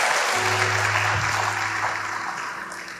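A church congregation applauds in a dense, loud burst of clapping that gradually tapers off, with a low steady hum beneath it.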